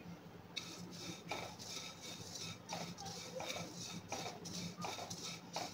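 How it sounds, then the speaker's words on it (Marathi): Dry coconut roasting in a pan while being stirred for goda masala, steady gritty scraping and rustling with light metallic clinks from the spatula, close and even. "आता आपण सुकं खोबरं भाजून घेऊया आणि सुकं खोबरं हे चांगलं खरपूस भाजून घ्यायचं आहे।"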